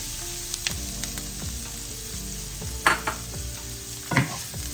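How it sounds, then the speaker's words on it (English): Sliced mushrooms hit a hot pan of browned onions and sizzle softly and steadily, with a few brief scrapes and clatters of a utensil stirring them. "Let's get our mushrooms in here."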